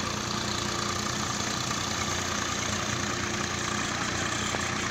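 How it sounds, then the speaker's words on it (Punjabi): A tractor-powered automatic brick making machine runs in a village, giving a steady, even engine drone with mechanical hum at moderate distance, unchanging and continuous with no talking. "ਜ਼ਿਆਦਾ ਕੰਮ ਨਿਬੜ ਜਾਂਦਾ ਇਸ ਟਰੈਕਟਰ ਦੇ ਨਾਲ ਇੱਟਾਂ ਕੱਢਣ ਨਾਲ"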